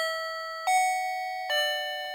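Two sustained, slightly out-of-tune electronic dings from a wireless doorbell chime ring out close by, each note decaying before the next, with no voices.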